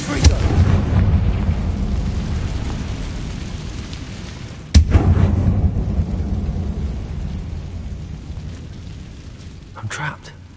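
A Confringo spell blast in Hogwarts Legacy on PS5: a sharp, loud explosive crack partway through, following an earlier rumbling blast, each trailing off into a long, fading rumble, with a faint thud near the end.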